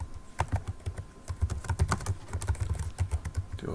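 Close, quiet typing on a computer keyboard while formatting an ebook, a quick irregular run of key clicks with short pauses between bursts.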